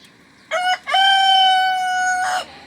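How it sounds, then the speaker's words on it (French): A farmyard rooster crows once loudly and close by, a clear, drawn-out cock-a-doodle-doo of about two seconds with a short break near its start, alone against quiet background. "un petit coup de chant du coq"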